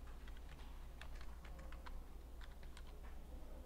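Computer keyboard typing during text entry in Photoshop, a steady run of light key clicks in irregular bursts, close and fairly quiet, with no talking.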